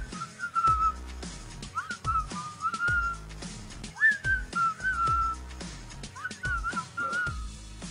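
Melodic whistling carries a pop tune in a parody song, with clear rising and falling phrases set over a rhythmic backing beat and no voices.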